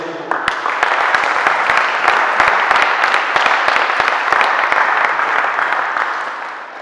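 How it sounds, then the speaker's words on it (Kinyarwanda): Congregation at a church service clapping steadily, a dense, sustained wash of many hands close by, fading slightly at the end. "Imana amashyi sawa"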